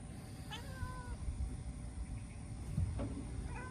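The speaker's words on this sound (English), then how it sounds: "If you see a fluffy fur ball, my cat." A fluffy house cat meows a few times, short rising calls near the start and again toward the end, close by in a quiet room with low background rumble.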